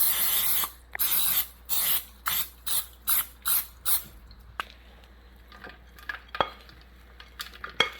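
Greasing a 9x9 baking pan for an apple pie cake: a run of brisk rubbing, scraping strokes against the metal, close and rhythmic, then thinning into scattered light clicks and taps.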